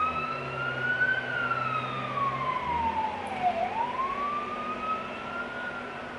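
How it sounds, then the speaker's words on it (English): An emergency vehicle siren wails steadily in the distance, its pitch sweeping up and down continuously over a low road hum. "Sirens."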